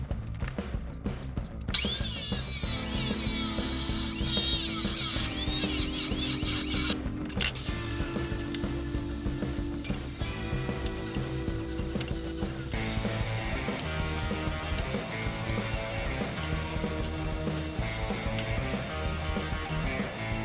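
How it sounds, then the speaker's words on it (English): A power saw cuts through six-inch 2x2 quarter-wall steel tubing, a loud, sustained grinding whine that shifts pitch as the blade bites, close and alone apart from brief pauses. "I just cut this piece of 6-inch long 2x2 tubing"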